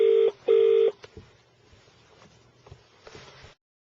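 Two loud phone dialing tones from a Bluetooth car kit sound in quick succession, followed by a faint, low hum and a soft click, then silence.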